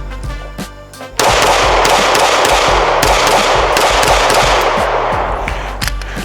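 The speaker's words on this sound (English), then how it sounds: "let's just get a few more shots going" Rapid pistol gunshots from a Smith & Wesson M&P Shield Plus fitted with an Osight K red dot, a close, loud string of sharp cracks fired in quick succession outdoors, with no talking.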